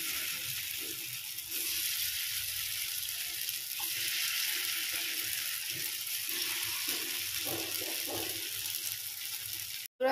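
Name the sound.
potato stuffing balls frying in oil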